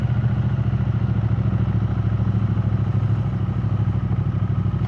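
A motorcycle cruising at speed on a road toward Windermere, with steady loud engine drone and heavy wind rush throughout, no voices.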